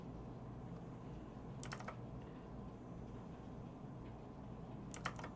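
A computer keyboard used for Blender shortcuts gives faint, brief clusters of key clicks, one near the start and one near the end, over a quiet steady room hum, with no talking.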